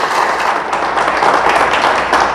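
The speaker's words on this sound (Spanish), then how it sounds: "Le damos fuerte el aplauso al Señor. Déselo fuerte, fuerte," A church congregation applauds loudly, a dense sustained wash of many hands clapping throughout, close and even in level, with no gaps.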